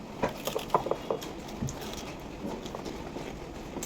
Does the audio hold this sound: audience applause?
no